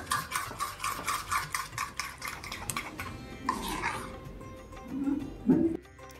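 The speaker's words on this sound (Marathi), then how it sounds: "आणि ते असं छान फेटून घ्यायचं" A batter of flour and ghee is beaten with quick, rhythmic whisking strokes against a bowl, then the whisking stops, followed by a dog whimpering and barking nearby.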